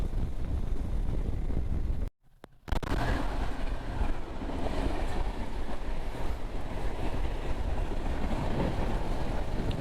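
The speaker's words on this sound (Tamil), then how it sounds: "கோவாவில் ட்ரெயின் போகுது." A steady, loud rumble of a train rolling past through forest in Goa, with wind buffeting the microphone and a brief dropout partway through.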